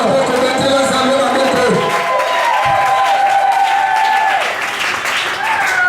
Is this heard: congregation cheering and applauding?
yes